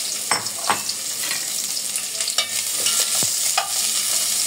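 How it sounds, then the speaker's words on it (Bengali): Onion, garlic and ginger fry in a pan for chicken potroast, a steady bright sizzle running throughout with several scraping stir strokes from a spatula breaking through at intervals, close and moderately loud, with no voices. "হালকাভাবে একটু নাড়াচাড়া দিয়ে দিচ্ছি।"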